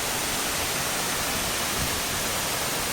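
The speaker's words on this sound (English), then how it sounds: "I am at the Baba Waterfalls in Amboli." Baba Waterfalls at Amboli roars as a dense, unbroken rush of falling water, loud and constant with no talk.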